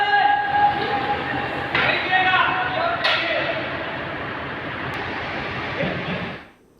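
Loco rail wagons haul mud, rocks, pipes and iron material out of the collapsed SLBC tunnel, giving a continuous rumbling roll with metallic screeching tones that fades out at the end.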